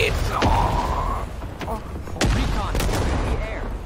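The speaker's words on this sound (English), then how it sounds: "That's another grenade." Grenade blasts and rifle fire in Rising Storm 2, several sharp explosive bangs and shots spread across a few seconds over a rumbling battlefield background, loud and close.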